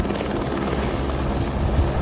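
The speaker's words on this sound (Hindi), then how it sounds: "हेलीकॉप्टर सुबह 6 बजे उड़ान भरता" A helicopter flying near Mount Kailash gives a loud, continuous rotor-and-engine drone that stays steady and close throughout, with no voices.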